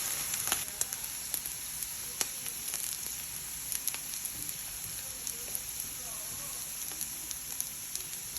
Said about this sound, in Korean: 야채 먼저 볶고 이제 카레 양념 같이 해가지고 만들 거예요